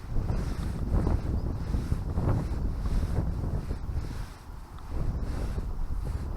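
Gusty wind buffets the microphone on a riverbank while pike fishing, rising and easing in rough surges, with a wash of open water in the background and no talking.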